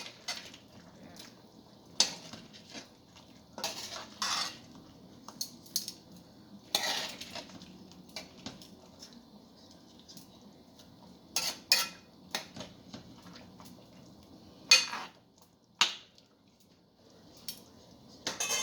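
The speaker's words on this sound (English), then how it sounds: "Stir it now." Metal utensils clink and scrape intermittently against a pot of Jamaican curry chicken being stirred, with sharp isolated knocks over a low simmering bed; no talk.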